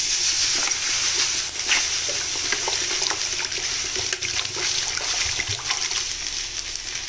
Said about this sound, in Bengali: তাওয়াটা যেহেতু গরম আছে, এখানে একটু গরম জল করে নেব।